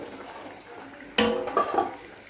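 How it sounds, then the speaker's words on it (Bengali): Fish are tipped into a hot cooking pan, giving a sudden sizzling splash with a clatter of metal. The hiss and scraping go on briefly and unevenly, close up against quiet kitchen background. "এবার আমি মাছ ঢেলে দেব"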